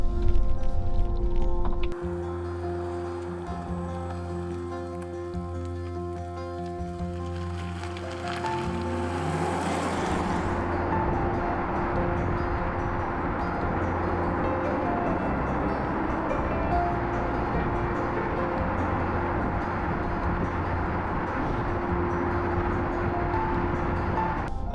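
Porsche Taycan Cross Turismo electric estate cruising on a smooth road in normal mode, a steady continuous cabin hum and low rolling rumble after a brief louder start, with no talking.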